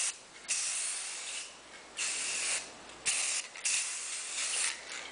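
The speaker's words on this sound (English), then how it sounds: "And now just add one more thin layer of your spray paint." Spray paint hisses onto a small console table in several bursts of about half a second to a second each, with short gaps between them. The sound is close and moderately loud, with no talking.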